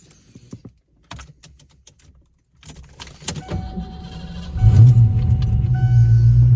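Clicks and key jangling, then a Fox Body Ford Mustang engine with a battery drain problem cranks and catches, settling into a steady low idle rumble close by.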